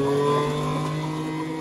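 A juicer machine runs with a loud, steady motor whine, harmonically rich and rough like a motorcycle engine, held continuously without voices.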